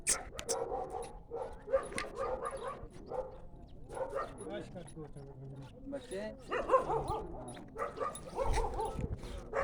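Several dogs snarling, yelping and barking in a scuffle outdoors, loud bursts scattered throughout with people talking and shouting over them.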